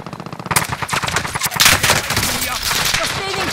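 Automatic gunfire in the Warzone battle royale game, played on Rebirth Island on PS5: dense, rapid bursts of shots start abruptly and keep going loud and close, with overlapping game effects and no talk.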